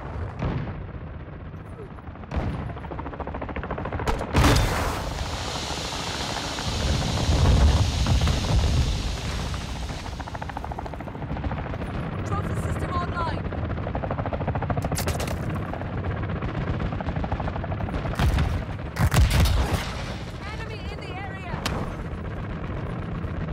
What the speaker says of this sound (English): Hostile chopper gunner overhead.